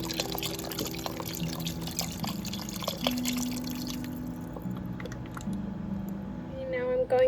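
Chicken broth pouring steadily into an Instant Pot, a continuous liquid stream with faint splashes that ends near the close, followed by a brief clink.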